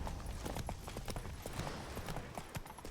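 Hooves of Roach, Geralt's horse in The Witcher 3: Wild Hunt, clip-clop at a steady trot, close and fairly loud, with a continuous low rumble of ambient game sound underneath.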